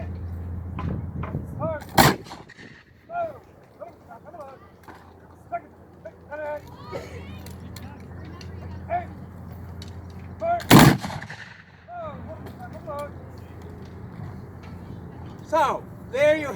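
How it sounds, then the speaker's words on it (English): Historical musket volleys at Fort McHenry, fired section by section: two loud sharp blasts ring out several seconds apart, with people talking and moving around them outdoors. "So, there you have each section firing volleys."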